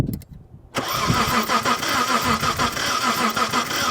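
A Mitsubishi Montero engine cranks without catching after a brief quiet moment, the starter churning steadily and loudly at close range for several seconds, with no sign of the engine firing.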